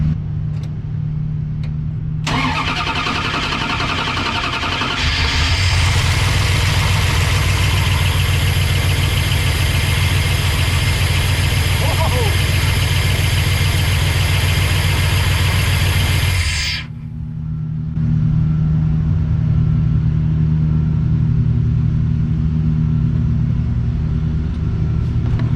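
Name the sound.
Dodge Ram W150 engine starting and idling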